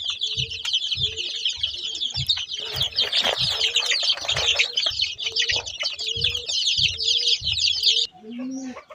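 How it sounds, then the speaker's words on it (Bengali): Young chicken chicks kept alongside quail chicks chirp in a dense, continuous stream of high peeps, close and lively, over soft repeated low clucks and a brief flutter near the end. "এইখানে সবগুলো আছে মুরগির বাচ্চা।"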